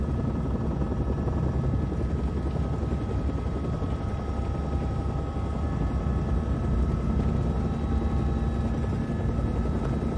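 A helicopter in flight gives a loud, steady rotor and engine drone that holds evenly throughout without a break, with no voices over it.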